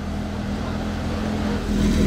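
A Porsche 992 GT3 RS sports car driving slowly in traffic near a casino square, a steady low engine rumble close by that swells slightly toward the end, with no talk.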